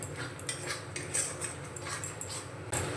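A spoon scrapes and stirs spices around a pan for vegetarian matar paneer on a low-to-medium gas flame, giving steady clinks and metallic scraping over a constant background hiss.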